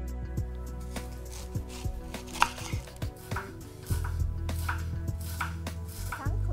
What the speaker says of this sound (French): Je commence avec le fenouil et je le coupe en lanières.